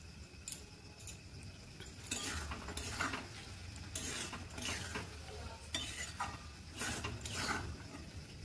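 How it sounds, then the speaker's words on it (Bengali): Palak paneer with garam masala is stirred in a pan, with soft spoon scrapes coming in bursts over a faint, steady sizzle, close up and with no talking. "হাফ চামচ গরম মশলার গুঁড়ো দিয়ে ভালো করে মিশিয়ে নেব"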